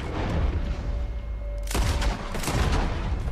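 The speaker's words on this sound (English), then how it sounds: "Am I going to have to shoot it out of his hand?" A single loud gunshot in the video game Red Dead Redemption 2 cracks out partway through, followed by a rumbling, echoing tail over steady background ambience.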